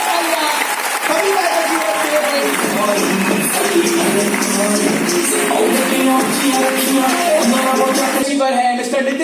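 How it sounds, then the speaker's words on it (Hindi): A hall audience at a Delhi training-program event bursts into loud, sustained applause that stays dense and even throughout, with crowd voices blended underneath. "एक बार जोरदार तालियां सभी"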